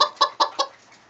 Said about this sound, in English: we picked up some Banny chickens. Now these are called Wyandottes. They're bantam breed.